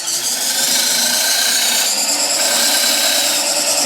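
Woodturning lathe cutting a spinning wood blank, a loud continuous hissing whir of the tool shaving the wood, close and steady throughout.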